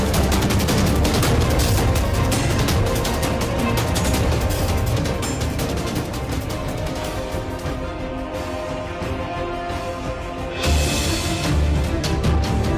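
Gunfire during an armed clash between Indonesian soldiers, police and an armed separatist group in Ilaga, Papua: dense, rapid bursts of shots and cracks, loud and continuous, with a renewed volley near the end.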